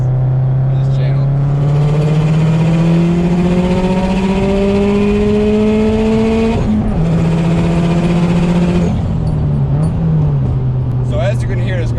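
A 2006 Subaru WRX STI engine with an external wastegate revs loud and close, its droning note climbing steadily in pitch, dipping briefly, then holding high.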